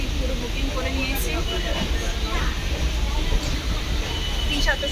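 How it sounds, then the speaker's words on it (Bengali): Inside a moving, nearly empty local passenger train, a constant low rumble and rattle of the carriage runs throughout, with faint wheel squeals and hiss over it. "আমরা ফাঁকা ট্রেনে বসে আছি"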